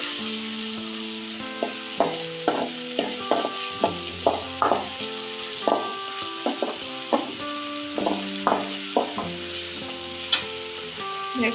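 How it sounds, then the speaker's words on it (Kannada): Beans palya cooks in a pan with a soft background sizzle, broken by frequent sharp knocks and scrapes as it is stirred, at a modest volume with no talking. "ಹಾಕಿಬಿಟ್ಟು ಅದನ್ನು ಫ್ರೈ ಮಾಡಬೇಕು. ಫ್ರೈ ಆಗ್ತೈತಿ."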